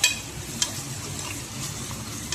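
A ground paste of ginger, garlic, tomato and onion fries in a pan for a chicken curry, making a steady moderate sizzle with a couple of sharp utensil clicks and no voices.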